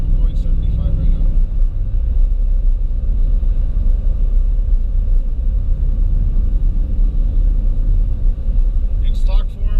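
A steady low road rumble and engine drone come from a 2021-2025 Ford F-150 single cab with the 5.0 engine cruising at about 75 mph. The noise is heard from inside the cab, and someone talks over it.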